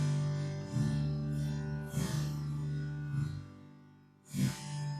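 A bluegrass jam track played back at quarter speed, giving slow, drawn-out sustained tones with a few soft swells across five seconds and no voices.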